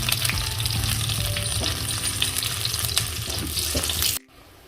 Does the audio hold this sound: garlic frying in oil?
yes